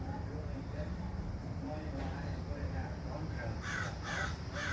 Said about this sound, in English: Mama Crow.